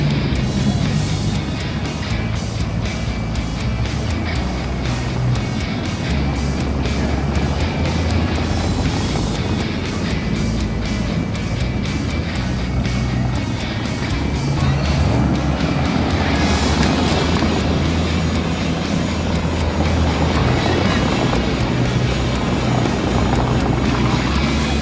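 Corvettes spanning C1 through C8 generations, including a ZR1, cruise past on the Ocean City, New Jersey boardwalk during a large Corvette show, a steady loud blend of engine rumble and crowd ambience with no pause.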